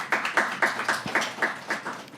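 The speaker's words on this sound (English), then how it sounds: "Let's give her a big round of applause." A handful of claps from the audience at a live startup pitch event land in a quick, even rhythm, about eight sharp hits over two seconds with no talk.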